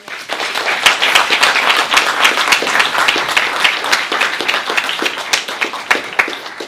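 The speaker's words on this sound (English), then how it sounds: "I would like to give them a big applause for their time" An audience applauds the recent alumni panelists at a computer science event, a loud, dense round of clapping close by that carries on steadily without letting up.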